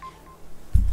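Telephone dialing tones from a phone in The Sims 3, brief electronic beeps heard alone and fairly faint, followed by a low thump at the end.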